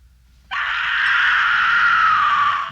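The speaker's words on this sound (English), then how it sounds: "She screams ad nauseum" A woman in the 1974 horror film The Texas Chainsaw Massacre lets out a sudden, loud, sustained scream that starts after a brief quiet moment and holds steadily to the end.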